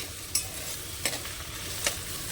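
Vegetables for Schezwan fried rice sizzling steadily in a pan over medium gas, a constant close hiss punctuated by three sharp scraping stirs.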